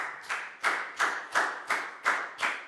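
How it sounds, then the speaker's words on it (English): Children in a Year 4 English lesson clap for a classmate in a crisp, evenly spaced rhythm, about seven sharp claps in unison, each landing roughly a third of a second apart. "High five and a big round of applause for Lacau, please, guys"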